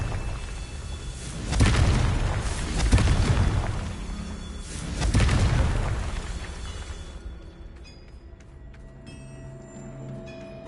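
Confringo blasting spells detonate in the video game Hogwarts Legacy, two or three heavy booming explosions in quick succession, loud and close with rumbling tails, then fading into quieter game ambience.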